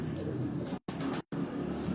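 A male pigeon coos softly at close range in a few low, throaty rolls, separated by two brief gaps.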